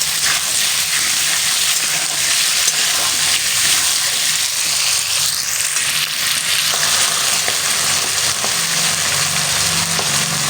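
Pieces of rohu fish fry loudly in hot oil, a dense, steady crackling sizzle that holds close and constant throughout.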